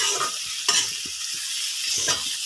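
Local chicken frying in a pan, a constant hissing sizzle with occasional scraping and stirring knocks from a utensil, close and alone.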